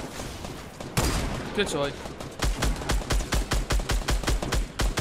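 Rapid bursts of gunfire from a Fortnite Battle Royale 50 vs 50 match, a brief pause then a steady run of evenly spaced loud shots, with a player talking in Dutch over the start.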